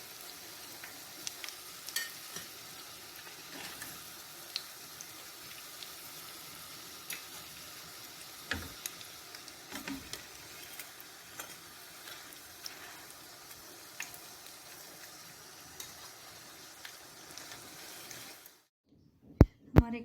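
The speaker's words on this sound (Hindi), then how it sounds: "इसको मैं फ्राई करती हूँ" Chicken potato cutlets fry in a pan with a steady, close, broadband sizzle and faint crackles for most of the clip, then cut off abruptly near the end, followed by a couple of sharp clicks.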